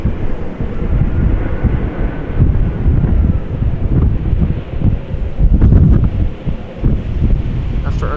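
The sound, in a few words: airliner arriving in crosswind at Amsterdam Schiphol Airport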